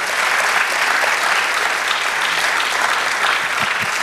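A church congregation applauds during a Spanish-language Easter sermon on the resurrection, loud, dense and sustained clapping filling the whole stretch without a break.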